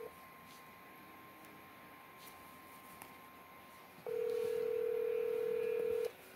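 A phone sounds touch-tone dialing beeps while a call is placed, first a few faint short tones, then one loud, steady, sustained tone for about two seconds against quiet room noise.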